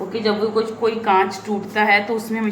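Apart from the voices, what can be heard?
No distinct noise like a dog, phone or traffic.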